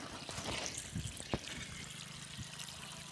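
Water trickling and gurgling as it flows through an irrigation line fed from a tank on a pomegranate farm, a soft steady run with faint drips and no talk.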